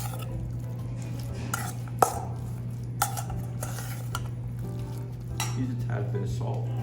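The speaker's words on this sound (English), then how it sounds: "Mix this up while we're waiting." Buttery lobster roll filling with mayonnaise being stirred in a bowl, giving soft clinks and scrapes of a utensil against the dish over a steady hum, with a couple of sharper knocks.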